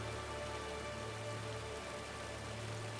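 Steady rain in Final Fantasy XIV, a constant dense hiss of falling drops with a low hum beneath, even and unbroken throughout.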